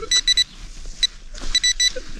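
Metal detector beeping while someone digs for old copper coins, with several short high electronic beeps in quick bursts of two or three, near and clear over faint outdoor background.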